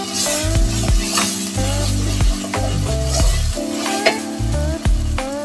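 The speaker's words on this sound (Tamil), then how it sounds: "இப்ப நம்ம இஞ்சி பூண்டு பேஸ்ட் இதுல சேர்த்துக்கலாம். இதையும் நல்லா வதக்கிக்கலாம்." Onions sautéing with ginger garlic paste in a pan for a mutton and chana dal gravy, a loud close sizzle with repeated rhythmic scraping and knocking of a spatula against the pan, no speech.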